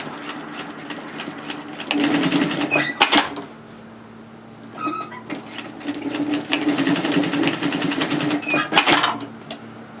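A sewing machine zigzag stitches a skirt waistband in two long bursts of rapid mechanical rattling, separated by a short pause with a few light clicks, close and loud, with no talk.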